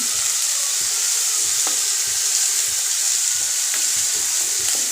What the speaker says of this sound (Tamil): இவங்க இருந்தாலும் நல்லா வதக்க வதக்க வதக்கணும் இவங்களை வதக்கிக்குவோம்